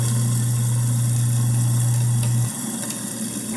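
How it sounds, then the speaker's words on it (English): A shop vac runs indoors in a house with a loud, steady motor hum and whine, then cuts off abruptly partway through, leaving a quieter room tone. "He brings my shop vac in to solve the issue."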